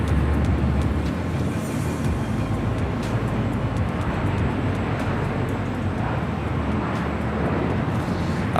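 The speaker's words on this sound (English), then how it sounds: "Up there on the north side, we have a Delta 757 heading to Washington National." A Delta Airlines Boeing 757-200 jet roars at Los Angeles International Airport, a broad, steady engine rumble that stays loud and constant throughout, with no talking.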